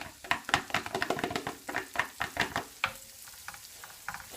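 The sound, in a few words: onions frying in melted butter in a pan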